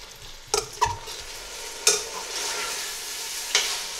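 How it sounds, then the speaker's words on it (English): Tomatoes and spices sizzle steadily in a pan while being fried, with a constant hiss broken by several sharp scraping stirs of a spoon against the pan, close up and with no talking. "I'm just going to fry this for a few minutes just so that they absorb a really nice flavour and the tomatoes begin to soften slightly"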